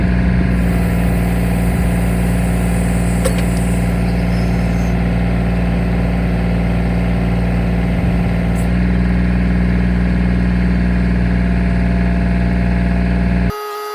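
Kubota L2501 tractor with a backhoe attachment, its engine running loud and steady for the whole stretch with a constant low drone, then cutting off abruptly at the very end.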